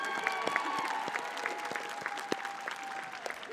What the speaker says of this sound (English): Let's have another round of applause for all of our award recipients